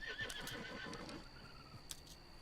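A horse in a video game gives a loud, clear whinny up close, followed by a few hoof clops and quiet ambience.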